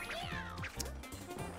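Cartoonish cat meows from Super Mario 3D World, a few short pitched mews with bouncy game sound effects and background music, loud and clear.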